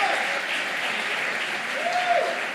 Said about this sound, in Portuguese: Se vai aplaudir, pode aplaudir bem forte